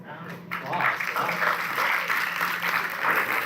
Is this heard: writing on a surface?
no